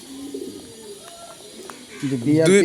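A racing pigeon coos nearby in a few soft, low murmuring calls, followed by a louder burst of cooing and rustle near the end.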